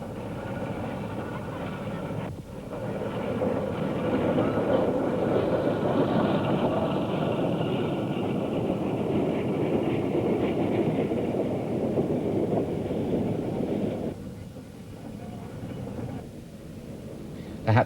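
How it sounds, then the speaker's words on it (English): A Sans Pareil steam locomotive running past, a steady loud rumble and hiss that swells and holds for several seconds before easing off. "A rather lofty sans-pareil showing its paces."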